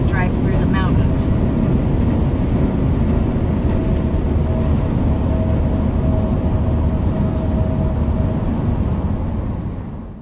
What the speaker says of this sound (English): I'm not going to get out because traffic is really loud